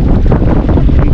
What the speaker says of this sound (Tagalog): Pero mahangin pa rin.